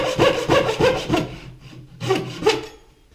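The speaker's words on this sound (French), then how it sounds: "la scie à chantourner est utilisée pour retirer la matière excédentaire" Scroll saw cutting through wood along a marked line while building a tool cabinet carcass, a close, rhythmic series of rasping strokes in two bursts separated by a short pause, no voices.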